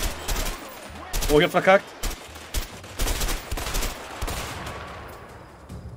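Gunshots in the video game A Way Out, a series of sharp, close bangs and short rapid bursts spread across a few seconds, mixed with someone talking between the shots.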